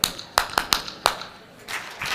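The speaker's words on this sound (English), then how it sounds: "I'll bring you back with that clap" Sharp hand claps from a presenter at a reading science conference, several quick separate claps in a loose rhythm, close and fairly clear in a quiet room with faint murmur after.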